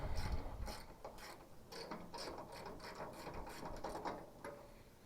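Repeated clicking of a ratchet turning a 13/16 spark plug socket to break loose spark plugs on a Case 446 tractor, steady rhythmic ratcheting strokes, close and moderately loud with no talking.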